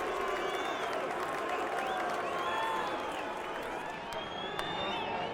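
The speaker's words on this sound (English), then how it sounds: "More displeasure from the crowd." A large boxing arena crowd roars and murmurs continuously, with scattered whistles rising above the steady din, sounding restless and disapproving.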